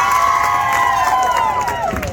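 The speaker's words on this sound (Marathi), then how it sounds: "एकदा टाळ्या वाजवा आमच्या दांडी बॉईजसाठी" Crowd cheering and clapping at a Narkasur effigy competition during Narak Chaturdashi celebrations in Malvan, a loud, dense burst of outdoor applause and shouting with a voice on a loudspeaker over it.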